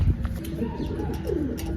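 Soft, low cooing of pigeons repeats through the clip over a steady background hum, with a few faint chirps mixed in.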